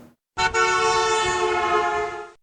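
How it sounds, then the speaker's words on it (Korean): A vehicle horn blares loud and close as the vehicle passes by, holding one steady, rich tone for about two seconds before it cuts off. "지금 들으신 소리가 차량이 경적을 울리며 지나갈 때 도로에 서 있던 사람이 들을 수 있는"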